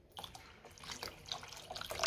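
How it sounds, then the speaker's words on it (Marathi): Hot water poured from a glass into cooked masoor dal in a home kitchen gives a close, fairly soft pouring and splashing that builds steadily for about two seconds. "मी साधारण 1 ग्लास पाणी घातलेलं आहे"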